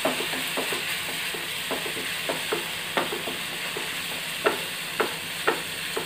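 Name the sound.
tomato added to pan of frying chicken liver, sizzling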